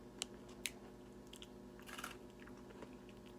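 Chewing a crunchy chocolate bar made with corn, a few sharp bites and crunches close up and quiet, separated by soft mouth sounds.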